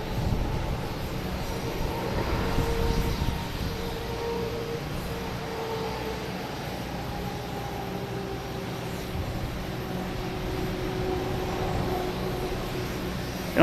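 JetBlue jet airliner at Boston Logan Airport, a continuous rumbling engine roar heard from a distance with faint shifting whine tones, steady throughout with no voices.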